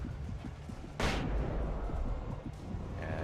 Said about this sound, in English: okay, flashbang.